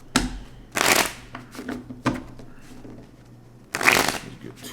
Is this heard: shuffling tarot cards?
yes